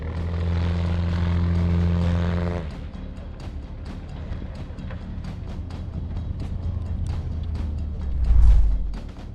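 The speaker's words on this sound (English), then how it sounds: "The plane lost control while landing, flipped over and came to a stop on a grassy area next to the runway." A propeller plane losing control while landing, its engine droning loudly and then cutting off, followed by scattered clatter and impact thumps ending in a low heavy crunch as it flips over beside the runway.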